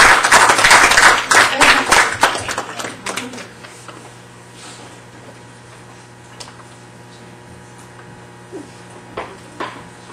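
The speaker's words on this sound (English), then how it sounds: "how about a round of applause" Brief burst of clapping from a small group at a town board meeting, fading quickly into quiet room noise with scattered light taps.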